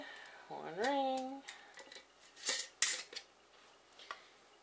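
Metal canning lid and ring clinking and scraping as they go onto a glass jar of pork shoulder, a few sharp metallic clicks amid a brief spoken word and kitchen handling.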